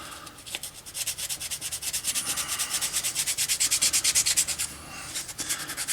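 Rhythmic hand sanding and shaping on the end of a brass-wrapped tool chest handle, quick regular back-and-forth strokes, close and moderately quiet, with no talking.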